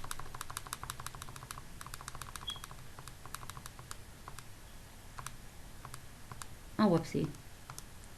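Graphing calculator keys are pressed in a series of sharp, quiet clicks, some in quick runs and some spaced apart, before someone speaks briefly near the end.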